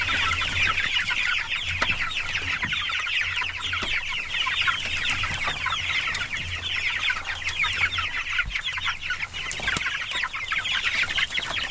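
A flock of about 150 meat chickens clucks continuously in a coop during rainy weather, a dense, steady chorus of overlapping calls close by with no voices.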